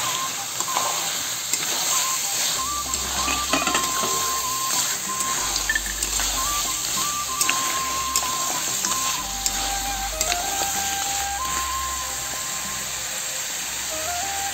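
Crab pieces and fried potatoes are stir-fried together in masala for a crab curry, giving a continuous low sizzle with repeated scraping and stirring clatter of a utensil against the pan, close by and without talk.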